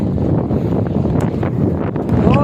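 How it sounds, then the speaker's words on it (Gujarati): Strong gusty wind on a coastal road during a long cycling trip from Surat to Dwarka buffets the microphone with a loud, continuous rumbling roar that swells and eases. "અત્યારે પવન એટલો છે કે પવનની વાત ન કરો"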